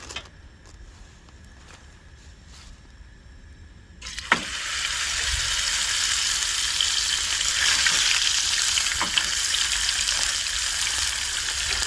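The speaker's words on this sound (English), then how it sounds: "And now we got some nice bacon grease for our cheeseburger." Bacon grease sizzling in a camp pan for a cheeseburger: quiet crackle at first, then a loud, steady frying hiss takes over, with occasional pops and stirring sounds.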